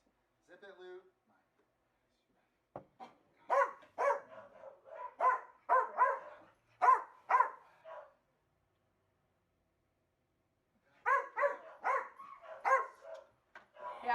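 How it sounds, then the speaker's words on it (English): A dog barks repeatedly in bursts during play, a quick run of loud, close yaps followed by a pause and then another flurry, with a brief voice at the start. "try to get her not to bark when you play with her"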